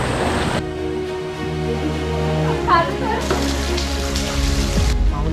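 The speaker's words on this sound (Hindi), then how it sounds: "बारिश आ रहा है" Steady rain falls in a forest during a monsoon trek, a constant hiss close by with a low drone and occasional voices talking over it.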